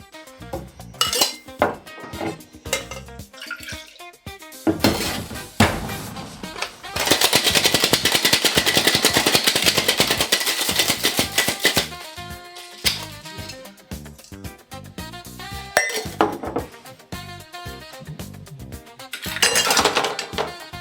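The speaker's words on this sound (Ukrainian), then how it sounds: "Тепер додаю лід і шейкую." Ice rattling hard inside a cocktail shaker while making a non-alcoholic cocktail at home: loud rapid clattering bursts of shaking, with clinks and pauses between rounds.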